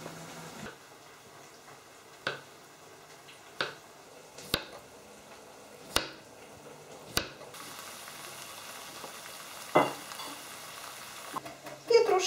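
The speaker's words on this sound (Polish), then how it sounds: "Grzybki się duszą, cudownie już pachną." Mushrooms stewing in a pan for a mushroom and potato casserole give a faint, steady sizzle, broken by half a dozen sharp utensil taps against the pan, close by and without talk.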